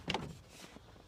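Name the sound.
opening back door of 1982 GMC C20 truck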